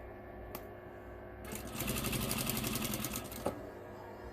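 Sewing machine stitching a hem right along the edge of a mesh laundry bag, starting up after a light click and running a steady rapid whir for about two seconds before a clack ends it.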